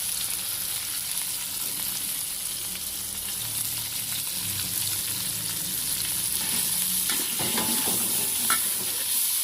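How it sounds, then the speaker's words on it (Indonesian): Food stir-frying in melted margarine and chicken fat, a loud, continuous close sizzle and hiss with spatula stirring scrapes, no voices. "minyak margarin dan lemak ayamnya ya. Kita oseng-oseng dulu"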